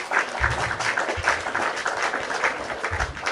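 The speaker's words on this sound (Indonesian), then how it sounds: "Kasih tepuk tangan lagi dong." A small live audience claps for a guest during an Indonesian talk show, steady clapping at moderate volume with some low thumping underneath.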